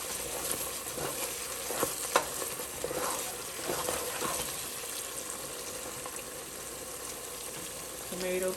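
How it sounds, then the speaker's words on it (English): Tomato paste gets stirred into a simmered Ghanaian beef vegetable stew, with soft scraping and spoon knocks over a faint bubbling sizzle, quiet and close, with a brief higher tone near the end. "I'm adding my tomato paste to it. Stir it for a second."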